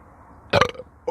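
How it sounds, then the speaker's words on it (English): A man lets out one short, loud belch up close, with a brief quiet lead-in and the start of another sound at the very end. "Oh, I'm just going to belch."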